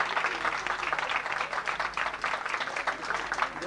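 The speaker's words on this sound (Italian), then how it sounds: "un applauso per il titolare di Villa Fortunata" Guests at an evening gathering at Villa Fortunata applaud the owner, producing a continuous, even patter of many hands clapping at moderate volume throughout.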